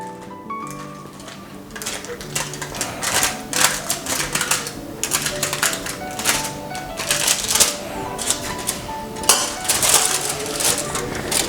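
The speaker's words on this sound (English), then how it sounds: "so I have here a sharp knife. I'm just gonna try to trim off the edges." Sharp knife trimming the edges of a tray of mango bars set on foil, giving a steady run of close scraping, tapping cuts with background music-like tones throughout.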